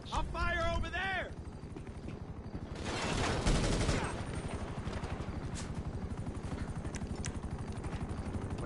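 Rapid automatic gunfire in GTA Online during a mission, a dense continuous barrage with a loud burst near the middle, running under and after a player's voice speaking briefly at the start.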